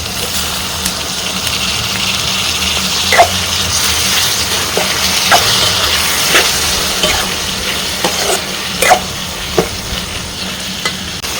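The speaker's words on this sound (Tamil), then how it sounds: "இப்போ நறுக்கி வச்சிருந்த தக்காளியை சேர்த்து நல்லா வதக்கிக்கலாம்." Chopped tomatoes sautéing in a hot pan for egg kothu parotta, a continuous close sizzle broken by periodic stirring clinks and scrapes.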